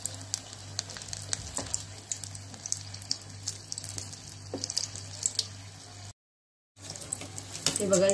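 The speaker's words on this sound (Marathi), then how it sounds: "हे बघा इथे छान तळले जात आहेत आपले पकोडे" Egg and potato pakodas deep-frying in oil over a medium flame, a continuous close watery sizzle with scattered crackles and a steady low hum, briefly cut to silence near the end before resuming.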